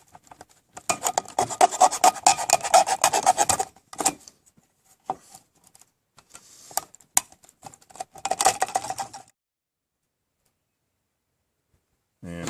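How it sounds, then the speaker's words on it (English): A Stanley 10-049 pocket knife blade being sharpened, heard as a run of close, dry rasping strokes in quick succession, then a pause, a few isolated scrapes and another short burst of rapid strokes before silence. "And sharpen my knife back up."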